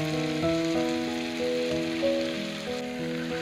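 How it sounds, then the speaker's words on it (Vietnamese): Banana batter made with flour fries in hot oil in a pan, giving a soft, steady sizzle beneath stepping background music. "Chỉ cần dầu nóng lên thì mình sẽ đổ bánh vào chiên"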